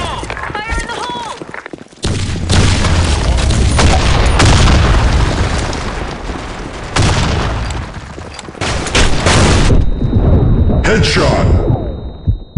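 Grenade explosions go off in a video game as heavy echoing booms, several loud blasts in succession among gunfire and brief shouted voice lines.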